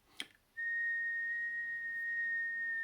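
A person whistles a single steady, clear tone to imitate a bird, held for over two seconds after a brief soft breathy onset, close and alone.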